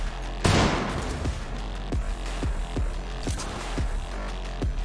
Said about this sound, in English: And flashbang.